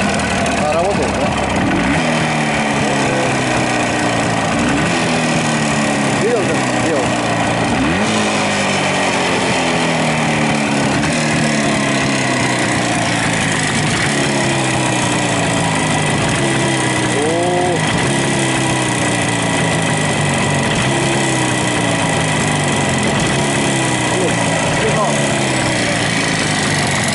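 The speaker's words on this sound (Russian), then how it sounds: "Мопед вообще. Ну немножко подзвякивает" Jawa moped engine idling with a slight rattle, a steady buzzing putter running throughout, with people talking over it.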